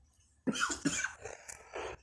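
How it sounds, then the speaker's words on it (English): Someone with a cold clears their throat a few times in quick, rough bursts, close by and fairly quiet. "Sorry for clearing my throat 100 times."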